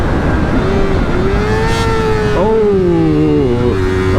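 A brand new 2025 Yamaha R3 motorcycle laps a race track, its engine loud and close, revving upward in a rising whine, then dropping sharply through downshifts before climbing again.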